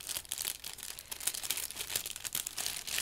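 A tightly sealed plastic packet holding a small backpack is worked open, giving steady crinkling and crackling of plastic across a few seconds, close up with no talking.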